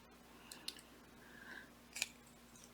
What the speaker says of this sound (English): we're going to cut these squares off, completely off